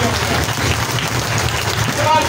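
A crowd at a political rally in Bagh applauds, a busy clapping wash mixed with voices and low rumble from the gathering.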